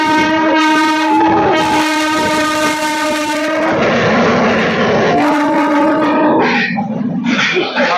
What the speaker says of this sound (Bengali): চলো উঠে পড়া যাক ট্রেনে